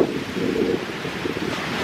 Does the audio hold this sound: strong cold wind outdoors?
yes